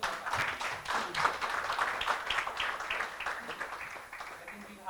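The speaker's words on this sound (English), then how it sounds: "give a big round of applause for the panel" A real estate summit audience claps for the panel after a discussion on JDA, scattered applause rising and tapering over several seconds, with voices talking over it.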